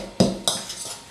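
Lemon zest mixed into ravioli filling in a bowl: two quick, close utensil knocks and scrapes against the bowl, bright and short, with nothing else around them.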